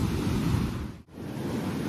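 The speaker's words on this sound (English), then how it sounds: "The waves are just something else." Ocean waves breaking on a beach in Rio de Janeiro, a steady loud roar of surf and wash with wind buffeting the microphone, briefly dipping for an instant midway before surging back.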